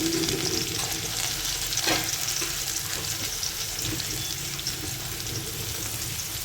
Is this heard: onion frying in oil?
yes